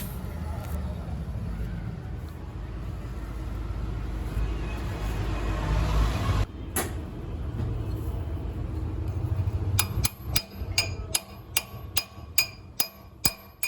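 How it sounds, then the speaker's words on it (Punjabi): Metal hammer blows ring out in a workshop as king pin bushes are replaced on an auction jeep, a rapid series of sharp clinks in the later part after a stretch of rumbling noise and talk. "ਇਹ ਚੱਲ ਰਿਹਾ ਜੀ ਕਿੰਗ ਪਿੰਨਾਂ ਦੇ ਬੁਸ਼ ਰਿਪਲੇਸਮੈਂਟ ਦਾ ਕੰਮ"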